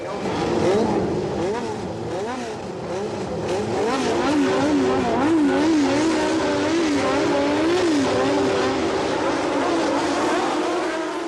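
Formula 1 cars from 1977 roaring away at the start of the British Grand Prix, a dense loud blend of high-revving engines rising and shifting pitch, with commentary talk faintly beneath the engine noise.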